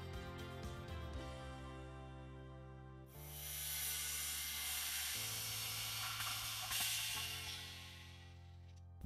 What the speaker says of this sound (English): Then we're going to drain the compressed air system.